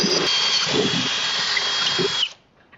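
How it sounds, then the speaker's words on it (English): A power drill drilling through metal while installing a dump truck tarp system whines steadily at high speed, loud and close, then abruptly winds down and stops near the end. "And then now that it's on again, we can finish drilling all the way through."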